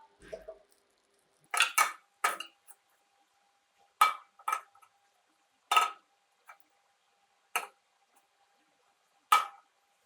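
A metal pot of melting butter clanks and scrapes on a stovetop in short, spaced bursts, several knocks repeating every second or two against an otherwise quiet background.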